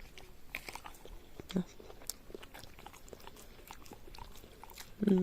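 Crunchy bites and chewing on a pear, outdoors during a hot summer evening, with a few sharp crisp bites standing out, the loudest near the end, over a steady background of chewing and faint rustle.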